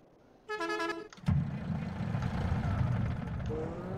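Truck horn in the Farming Simulator 22 video game: a single loud, tonal honk lasting about half a second, followed by a sharp knock and then a steady, rumbling engine drone.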